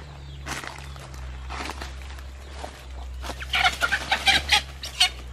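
Chickens clucking close by on a farm in El Salvador as they are caught by hand, with scattered clucks building into a flurry of louder squawks near the end, over shuffling footsteps and a steady low hum.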